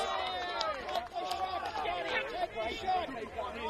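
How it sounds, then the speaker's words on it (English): Spectators at a Cottesloe versus Associates reserve grade football match make a busy, steady murmur of shouts and chatter, fairly faint and continuous, with voices rising and falling throughout. "The crowd are loving this too."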